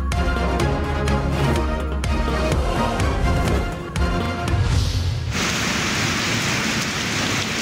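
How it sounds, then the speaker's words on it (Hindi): Heavy rain pours down in Jahania, Pakistan, heard as a dense, even hiss that takes over after a few seconds of louder tonal sound at the start. "जहानिया में भी बादल जमकर बरसे"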